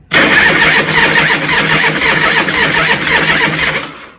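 An old car engine cranks with a rough grinding churn, then catches and roars loudly, holding a steady, close rumble before fading at the end.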